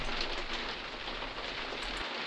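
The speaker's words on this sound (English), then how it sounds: "And then the rain started again." Rain falls steadily outdoors in the Leicestershire countryside near a wildlife photography hide, a constant dense patter without breaks or voices.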